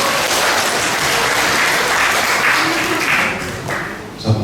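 A church congregation at a pastor's send-off gives sustained, dense applause that holds steady and then tapers off, with a louder sound at the very end.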